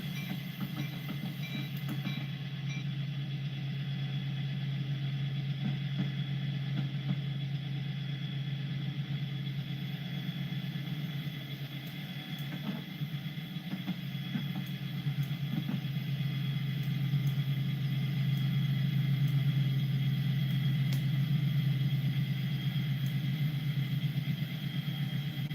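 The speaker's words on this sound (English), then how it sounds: "This is just to show you guys how fast, how quick, peppy these engines truly are." Car engines revving hard as they accelerate from a standstill to 60, a steady low droning roar that swells slightly toward the end, heard from inside with no talking.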